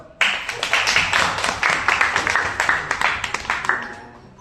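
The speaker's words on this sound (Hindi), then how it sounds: "बहुत बहुत तालियां।" An audience applauding at a community service course event, sharp claps beginning abruptly and continuing steadily for about four seconds before tapering off.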